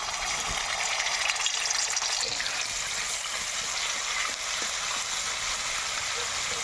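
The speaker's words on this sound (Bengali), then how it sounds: "এবার আমি পেঁয়াজ বাটাটা তেলের মধ্যে দিয়ে দেব।" Onion paste frying in hot oil in a pan after fish has been fried, for a rohu fish and potato curry, giving a steady, close, fairly loud sizzle with a bubbling hiss throughout and no talking.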